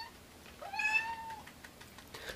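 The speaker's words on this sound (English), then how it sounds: "My cat's meowing." A house cat gives one clear, drawn-out meow, fairly close and a bit faint, over a quiet background.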